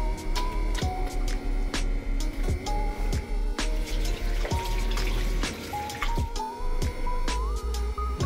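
Water dripping and trickling from a leaking tap fitting in a home washroom, a steady run of small drips heard under a busy, tonal background.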